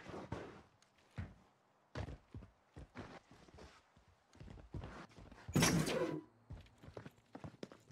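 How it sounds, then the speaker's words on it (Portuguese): Footsteps in the shooter game Call of Duty: Warzone come as quiet, irregular soft thuds spaced through the moment, with one louder, sharper burst near the end and no talking. "Escutei passo."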